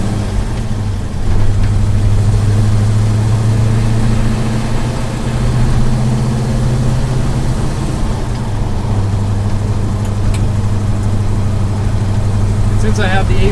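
A 1971 Chevelle SS with a T56 Magnum gearbox and Avon tires cruises a gravel road under construction, its engine a steady low rumble throughout with tire and road noise beneath it.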